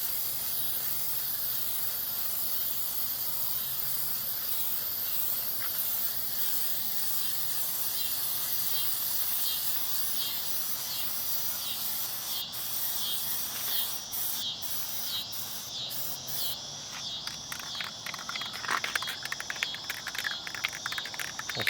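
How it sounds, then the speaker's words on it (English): A spray can applies Plasti Dip coating to a car grill in a continuous hissing spray, with a bed of insect-like chirping outdoors and short bursts of spraying toward the end. "I sprayed it a little too heavy without moving"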